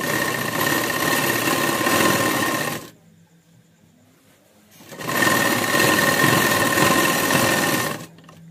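An electric sewing machine stitches the side seam of a burqa in two loud, fast-buzzing runs of about three seconds each, separated by a brief near-silent pause.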